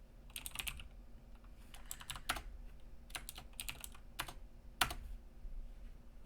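Typing on a computer keyboard: irregular clusters of light, quick key clicks with short pauses between bursts, close and fairly quiet over low background hum.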